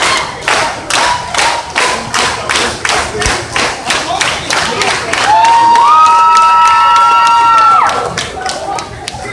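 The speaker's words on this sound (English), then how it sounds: "Clap, clap." A crowd at a small-town comic con wrestling match claps in a steady rhythmic beat, about a dozen evenly spaced claps, then cheers and shouts rise over it with a sustained high whistle or call, loud and close.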